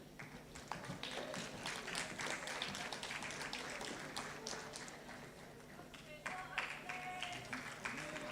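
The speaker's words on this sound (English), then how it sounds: "Give him a clap, it's 20 years." Audience applause at a long service awards ceremony honouring 20 years of service: a dense, sustained clapping from a crowd filling the room, steady throughout, with a voice speaking over it.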